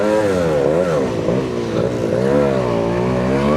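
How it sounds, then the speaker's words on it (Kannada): A Suzuki Shogun two-stroke motorcycle engine runs loud and close after a kick start, a buzzy, raspy exhaust note that wavers as the throttle is blipped up and down. "ಸ್ಟ್ರೈಟ್ ಅವೇ ಕಿಕ್ ಕೊಟ್ಟು ಸ್ಟಾರ್ಟ್ ಮಾಡಿ ಗಾಡಿ ಎತ್ಕೊಂಡು ಹೋಯ್ತಾ ಇರೋಣ"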